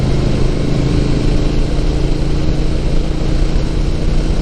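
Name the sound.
motorcycle engine revving with throttle while riding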